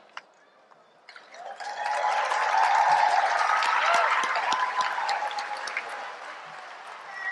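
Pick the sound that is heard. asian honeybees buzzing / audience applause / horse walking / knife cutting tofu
audience applause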